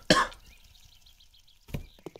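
A person still getting over a cough gives two distinct coughs, a loud close one at the start and a shorter one near the end, separated by near-silence.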